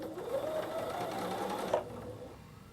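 A Bernina sewing machine runs steadily, top stitching a fabric binding held in place by a pin, a continuous close whirring motor hum that stops abruptly near the end.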